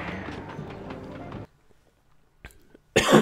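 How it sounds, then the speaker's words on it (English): A person blows their nose with a short, breathy honk near the end, loud and close, after game music cuts out and a brief quiet pause follows. "Such a relief to blow my nose"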